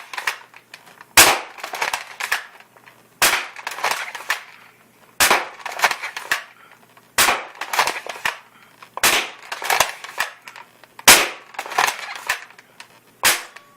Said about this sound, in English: So that was the firing test.